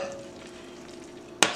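Sauce being stirred into lobster meat in a pan, a quiet, close scraping and sizzling that ends in one sharp clack of utensil against pan.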